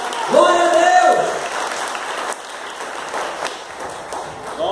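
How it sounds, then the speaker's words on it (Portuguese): A church congregation applauds the Lord after a preacher's call, a burst of clapping under and around a loud sung or shouted voice at the start, then continuing more softly. "Aplauda o Senhor bem forte!"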